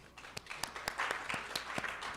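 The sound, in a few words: applause for a panel sponsor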